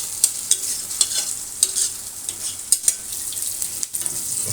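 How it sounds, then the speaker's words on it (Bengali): Spiced chicken fries in a pan with a constant hissing sizzle, broken by repeated stirring scrapes and taps at an uneven rhythm, close and fairly loud. "এখানে চিকেন ভাজা হচ্ছে"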